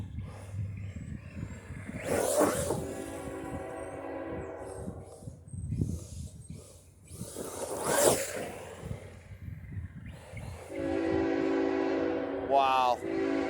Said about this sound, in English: Apparently there's a train.